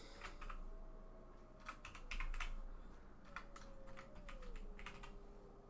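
Computer keyboard typing during a live-streamed Disciples 2 game session, with clustered bursts of rapid keystrokes recurring over steady background hum and a faint tone.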